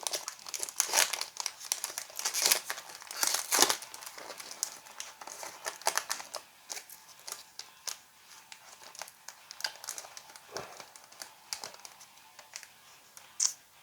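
Foil trading card pack being torn open and handled, close crinkling and crackling of thin foil in irregular bursts, fairly quiet with no talking.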